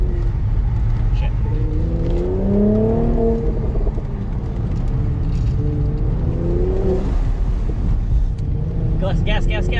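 A Mercedes C43 AMG at an autocross in Traverse City drones and swells as it accelerates, its engine noise running continuously under an instructor's spoken coaching from inside the car.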